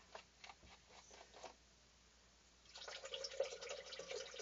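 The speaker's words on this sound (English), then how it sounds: "Put your margarita mix in it." Margarita mix is poured into a Margaritaville machine, a quiet liquid trickle and splash that thickens into a fuller pour during the last second and a half, with soft handling noises before it.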